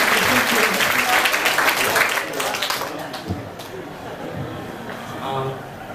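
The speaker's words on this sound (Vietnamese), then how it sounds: "Cho tôi một tràng vỗ tay để cổ vũ." An audience at a year-end gathering applauds to cheer on a poem reader, a loud burst of clapping that fades after a couple of seconds as talk takes over.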